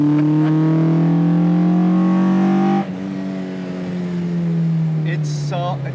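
A drift car's engine revs hard with a loud, roaring intake note, rising pitch sweeps that drop sharply and climb again, close and dominant.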